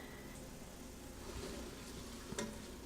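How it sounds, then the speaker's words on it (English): Mushrooms sizzling and frying in melted butter in a Ninja Foodi pot, a steady close crackle with a brief louder stir near the end. "once my butter starts to melt, I'm just going to go ahead and add all my mushrooms in"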